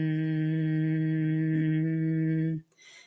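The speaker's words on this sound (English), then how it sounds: "you can also just do like a gentle hum." A single voice makes a gentle, sustained hum at a steady low pitch, held evenly for a few seconds before stopping.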